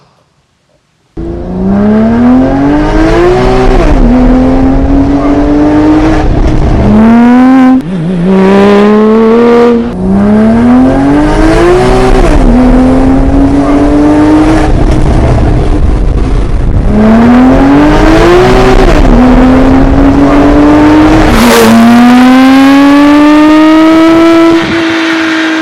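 A Porsche 997 GT2 fitted with a handmade KLINE exhaust system revs up hard again and again, each climbing surge loud and close. The exhaust note rises and falls through repeated blips and sustained pulls.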